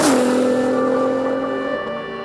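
A road-legal Radical RXC Turbo race car laps Anglesey circuit on a hot, sunny track, its engine holding a loud, steady drone that slowly sags in pitch as it passes.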